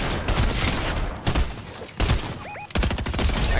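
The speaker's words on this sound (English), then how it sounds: "he had shotgun on me" Rapid bursts of close, loud gunfire in a Fortnite match, including shotgun blasts, come in several clusters separated by brief gaps.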